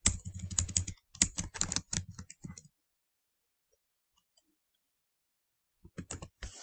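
Bursts of typing on a computer keyboard while entering search terms, with quick clustered key clicks over the first three seconds, a long silent pause, then a brief final flurry near the end; close and fairly clear.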